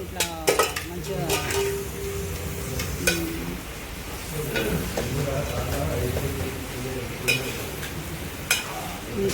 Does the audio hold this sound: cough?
no